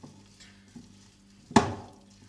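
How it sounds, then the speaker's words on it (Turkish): A spoon stirs şekerpare dough mixture in a bowl, giving a few soft scrapes and then one sharper clack against the side, close and fairly quiet with no talk. "karıştırıyorum tekrardan"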